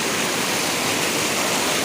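A natural waterfall roars in a steady, dense broadband rush that fills the whole clip without pause, close and loud, with no voices over it.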